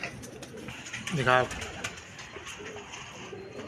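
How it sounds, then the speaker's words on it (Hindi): A topi bataira pigeon gives a short, soft coo near the middle, with a faint breathy ambience before and after. "तो ये है जी वो टोपी कबूतर, टोपी बटेरा कबूतर।"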